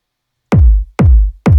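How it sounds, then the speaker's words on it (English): Three punchy kick drum hits from an old, unshaped music production, evenly spaced about half a second apart, each with a booming low thump and a dirty, noisy tail, loud and alone. "Let's see what this kick looks like."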